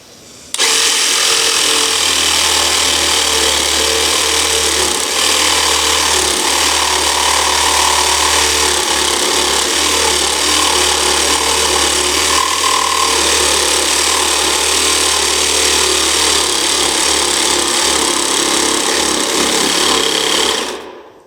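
A loud, steady mechanical buzz runs almost without a break, like a power saw working continuously up close, with a constant low hum beneath.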